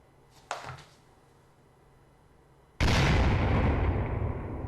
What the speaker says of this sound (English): That's the explosion.